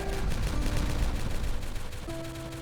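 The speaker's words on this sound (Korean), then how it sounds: "폭발." Explosion in the video game Timberborn, a dense crackling blast that rumbles loudly throughout with rapid bursts, followed near the end by soft steady game tones.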